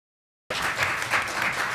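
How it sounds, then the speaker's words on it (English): An audience at an education research annual meeting bursts into applause after a moment of silence, dense steady clapping that fills the room. "It's a round of applause."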